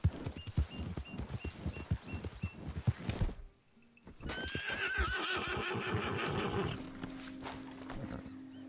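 A horse in Red Dead Redemption 2 gallops with rapid close hoofbeats, then after a short silence lets out a long loud whinny over continued movement.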